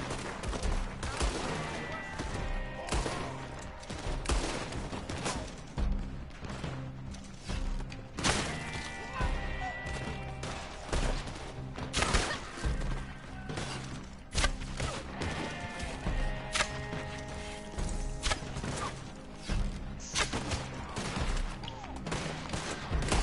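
Rapid gunfire rings out in the video game Red Dead Online during a gang fight in Valentine, with dense bursts of repeated shots and heavy thuds that continue steadily, loud and crowded throughout.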